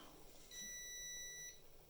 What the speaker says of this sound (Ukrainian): це в нас пищить блочок